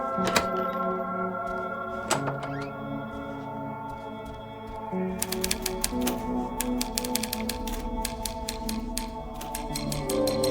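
Mechanical typewriter keys clack in quick irregular runs inside a video game set in a Berlin apartment, close and crisp over a low steady ambient drone, with a carriage-like snap early on.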